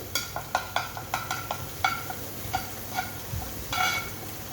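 Beaten egg is scrambled and fried in a pan for egg chicken chow, with a soft sizzle beneath a series of sharp, regular spatula scrapes and taps against the metal, close and clear without talk.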